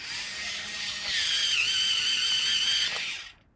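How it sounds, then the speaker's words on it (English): An automatic electric pencil sharpener grinds a pencil in a high, whining buzz that rises in pitch midway, holds steady for a couple of seconds, then cuts off abruptly. "I'm gonna sharpen my pencil."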